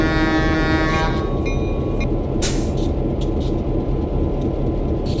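In a train simulator set on Bozeman Pass, a locomotive horn blares loudly for about two seconds over heavy rail rumble, followed by a brief hiss burst as the deep rolling noise continues steadily.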